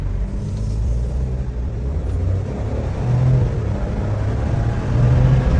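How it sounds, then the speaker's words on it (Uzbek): A Chevrolet Onyx car engine runs steadily on gas, with a low, continuous rumble and a slight rise in revs toward the end, close by and with no voices. "Mashina gazda ishlab turibdi."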